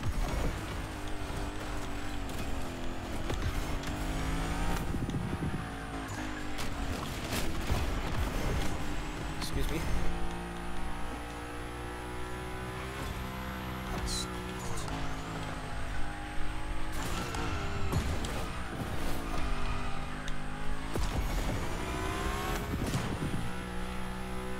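Race car engine roar in The Crew Motorfest during a grand race, loud and continuous with rising and falling revs, clustered impacts and bursts throughout, and a person talking over it at times.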